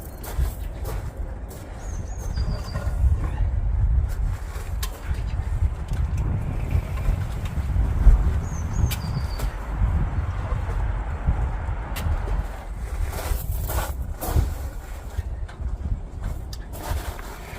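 Gusty outdoor wind buffets the microphone beside a rustic woodworking workshop, a constant low rumbling roar with a few faint clicks and knocks over the top, with no talk.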